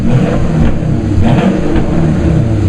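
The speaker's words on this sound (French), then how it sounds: "le son emblématique de la DeLorean démarre dans le film est en réalité le bruit d'un moteur de Porsche 928" A Porsche 928 engine roars and revs steadily, loud and close, with a deep low rumble that swells and eases without pause.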